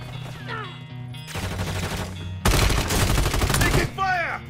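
Gunfire in Call of Duty Warzone 3 during a firefight, with bursts of shots and heavy dense rattling volleys building in loudness over the few seconds, plus game effects; no speech.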